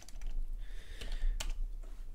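Fingers type a short command on a computer keyboard, a quick run of light, close clicking keystrokes with no voice.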